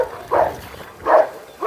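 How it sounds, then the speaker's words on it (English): Dogs kept by a breeder bark from the back of their pens, three short, fairly loud barks spaced evenly about three quarters of a second apart, with no talk over them. "the ones in the back barking because they want to get out"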